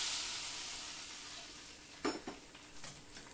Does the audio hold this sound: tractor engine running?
no